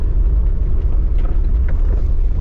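A car driving along a road near Alligator Pond in Manchester, Jamaica, heard from inside as a steady, loud low rumble of engine and road noise. No voices are heard over it.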